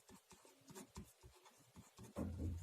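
Chalk or marker is written on a board during a physics lesson on vectors, giving short faint scratchy strokes in quick bursts that end in a brief louder rub.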